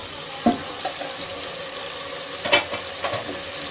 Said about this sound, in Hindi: मसाला हम अच्छे से भूनेंगे।